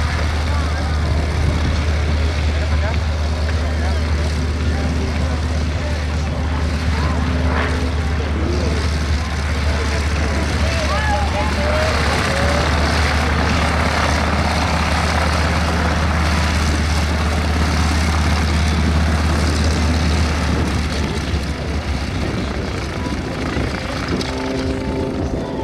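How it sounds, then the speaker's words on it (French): A propeller plane performing wing walking at an international airshow in Saint Quentin drones steadily overhead, loud and continuous, with an announcer talking over it throughout. "Un avion de show aérien"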